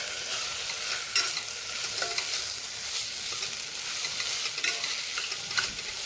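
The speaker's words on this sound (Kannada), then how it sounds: "ಇದನ್ನು ಚೆನ್ನಾಗಿ ಫ್ರೈ ಮಾಡಿದ್ದೀನಿ" Soybean pulao fries in a pan with a steady, fairly soft hiss and a few faint stirring taps, heard alone without talk.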